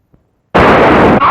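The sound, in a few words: gunshot fired in a film scene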